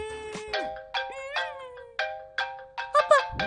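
Phone ringtone playing a repeating melodic electronic chime for an incoming call, loud and close, with pulsing notes repeating about every half second and no talk.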